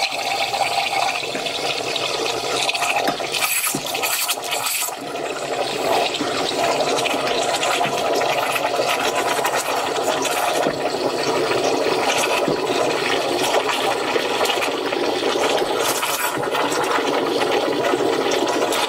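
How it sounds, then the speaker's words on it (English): A coffee machine's steam wand heats almond milk for a latte, giving a loud, steady hiss with a watery gurgle that carries on with little change for the whole stretch, and no talking. "You can hear the steamer on."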